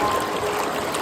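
A small forest waterfall at Junapani near Indore gives off a steady, loud rush of falling and trickling water, close and continuous.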